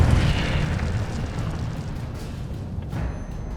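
A fiery Incendio spell explosion from Hogwarts Legacy, a loud rumbling burst at the start that rolls on as a dense, decaying roar with smaller pops near the end.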